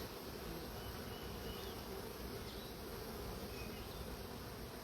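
Dense, steady buzzing of many honey bees crowding an open hive, a loud continuous drone that fills the whole stretch without pause and with no voices.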